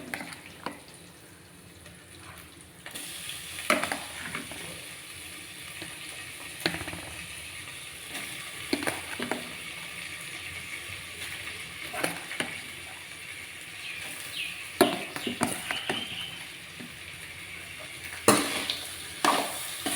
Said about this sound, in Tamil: சாதத்தை சேர்த்து நல்லா கழுவி விட்டுக்கலாம்